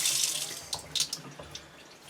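Tap water running into a sink close to its edge, rinsing an item scrubbed with a Brillo pad, a steady close splashing rush with a few brief louder splatters.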